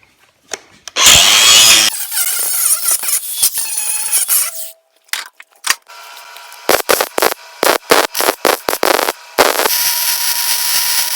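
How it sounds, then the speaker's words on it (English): An angle grinder works on broken metal on a King Kutter brush hog, loud whining bursts of grinding, a longer run early, then a series of short choppy passes separated by pauses. "So I'm gonna grind that and get it shined up"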